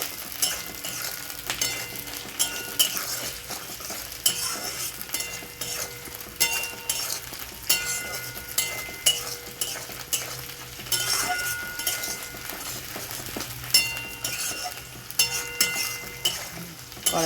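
Green peas fry in oil in a wok with onion and bay leaves, giving a steady sizzle broken by repeated scrapes and clinks of a metal spatula stirring against the pan. There is no talking.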